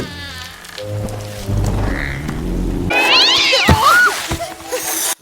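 A cartoon cat in the Disney animated film Tinker Bell yowls and meows loudly in a drawn-out, wavering caterwaul over a musical score, close and prominent.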